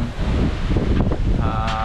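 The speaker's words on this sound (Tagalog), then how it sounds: "Grabe, sobrang lakas ng hangin." Strong gusts from Typhoon Tino roar across farmland in the Philippines, a dense, loud, continuous rush battering the microphone with no break and no rain to be heard.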